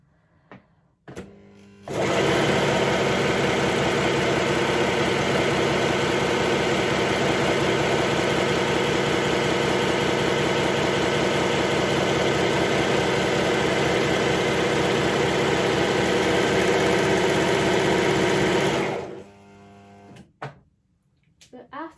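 A Brother 3034DWT overlocker runs a test seam in one continuous, steady mechanical whir that lasts about sixteen seconds. It is loud and close, with brief handling noises before and after and no talking.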